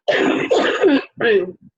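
A few harsh, close coughs and throat-clearing bursts in quick succession from a person with a long-term chronic cough, then a short pause and one last smaller cough.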